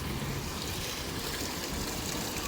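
Weak, clogged fountain with algae-choked pipes on the Pasig River Esplanade, its water splashing and trickling as a steady, close wash of noise with no talk.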